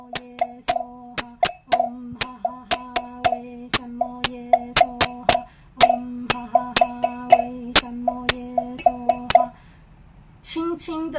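A ritual genta bell is struck repeatedly in a steady, fast rhythm, each bright metallic ping ringing briefly. The strikes are close and clear over a quiet background, then stop before a short final burst.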